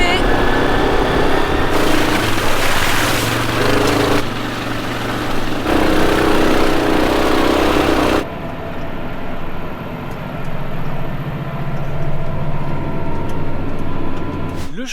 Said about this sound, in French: j'ai pris le quad, on va au champ